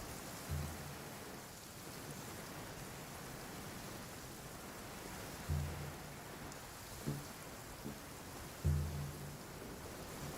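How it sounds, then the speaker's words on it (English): Steady, faint rain hiss falls in a video game near Wangshu Inn, with a few soft low thumps scattered through the otherwise even patter. "Rain?"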